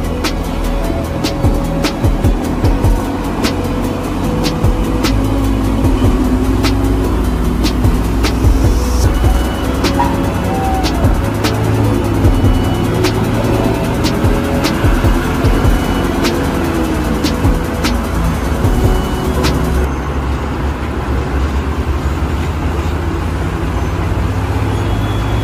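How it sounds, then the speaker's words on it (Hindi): Heavy, fully loaded trucks rumble loudly past on the Keshkal ghat road, with deep engine drone and traffic noise filling the whole stretch and brief air-brake hisses and clatter. "ये देखो यहाँ पे हैवी हैवी ट्रक आ रहे हैं भाई साहब।"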